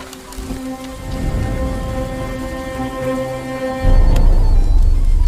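Steady animated rain falls heavily and continuously, with a deep rumble swelling near the end and a few sharp drips cutting through.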